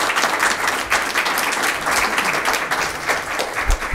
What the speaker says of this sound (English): Big round of applause now for all our candidates.